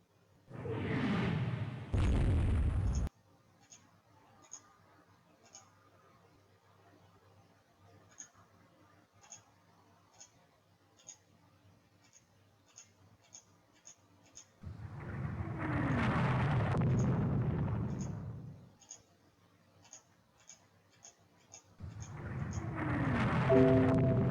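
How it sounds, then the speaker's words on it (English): A torpedo striking a warship in the naval strategy game Rule the Waves 2, heard as deep rumbling explosion bursts of a few seconds each, with faint ticking game sounds between them and no talk. "Now we've been hit by a torpedo."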